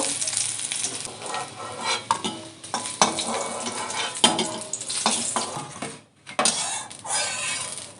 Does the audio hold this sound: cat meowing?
no